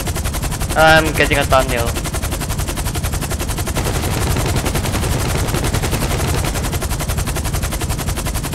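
A turreted limo's machine gun fires in rapid, continuous bursts in GTA 5 Online, loud and unbroken throughout, with someone briefly speaking over the gunfire early on.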